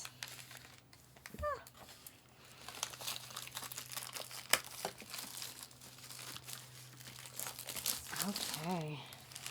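Plastic crinkles and crackles in close, irregular handling sounds beneath a steady low hum, with a brief squeaky tear near the end.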